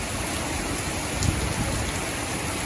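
Heavy rain pours steadily in Pattaya during a rainy-season thunderstorm, a dense, even hiss of drops on surfaces close by, with no voices.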